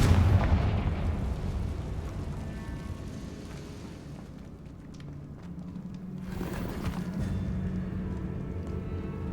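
Confringo fire spell explosions in the video game Hogwarts Legacy, a heavy booming blast at the start followed by rumbling, crackling fire and further bursting impacts over several seconds.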